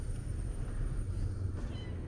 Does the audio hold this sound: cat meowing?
yes